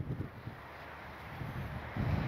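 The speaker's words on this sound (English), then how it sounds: "It is very, very windy today." Strong wind in Aruba buffets the microphone in low, rumbling gusts, loud and close, swelling again toward the end with no voices.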